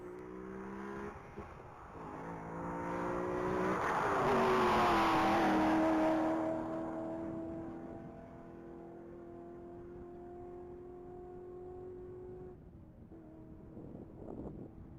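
A 2007 Corvette Z06 at a top-speed mile event roars past, its engine note swelling loudly to a peak and then fading as it pulls away into the distance, with wind noise throughout.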